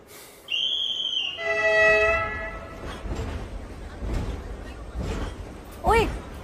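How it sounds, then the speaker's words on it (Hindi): A train passing by, blasting its horn in a long multi-tone blare before the rumbling clatter of cars rolling past, loud and close, with voices speaking over it. "ओए, ट्रेन जा रही है."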